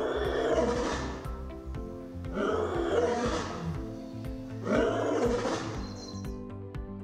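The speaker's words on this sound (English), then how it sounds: "While the roar of a lion is a low-pitched sound." A lion roars three times in deep, low-pitched bursts, each rumbling for about a second and a half, loud and close, with a faint high chirp near the end.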